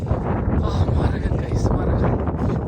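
Strong wind sweeps over a hilltop campsite with a tent pitched in the open, buffeting the microphone with a dense, steady roar that covers everything. A voice may be faintly buried in the rush.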